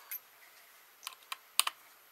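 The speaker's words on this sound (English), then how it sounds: "Get that screw out." A small Phillips screwdriver working a keyboard screw on a Dell Inspiron E1505 laptop gives a few sparse, close, light clicks and ticks, loudest as a quick pair near the end, in a quiet room.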